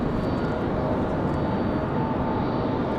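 Republic Airways Boeing 737 airliner idling at Raleigh-Durham International Airport before takeoff, a steady broadband jet-engine rumble heard at a distance in windy conditions, with no breaks.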